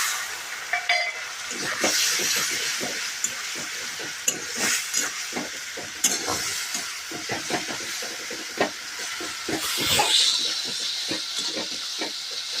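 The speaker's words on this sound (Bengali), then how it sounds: "এবার আমি সামান্য একটু গায়ে জল দিয়ে দিয়ে ভাজবো মশলাটাকে।" Spice paste sizzling in hot oil with small splashes of water, for a duck egg dish, with a steady close hiss broken by frequent scraping stirring strokes throughout.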